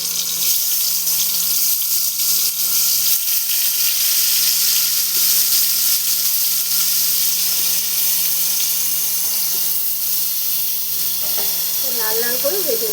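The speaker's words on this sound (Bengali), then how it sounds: "এখন আমি পটলগুলো দিয়ে দিচ্ছি।" Pointed gourd (potol) sizzles in hot oil in a pan, a steady, close hissing fry that runs the whole time with a brief clatter of stirring near the end.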